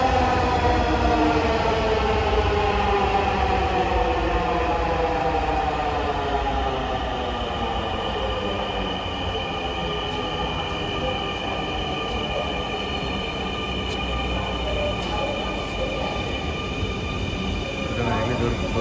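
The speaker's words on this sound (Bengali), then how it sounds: "আমি যে ট্রেনে যাবো সেই ট্রেন চলে আসছে।" A Dhaka metro rail train arrives at a station, its steady rumble and long descending wheel squeal sweeping down in pitch as it slows, loud and continuous throughout.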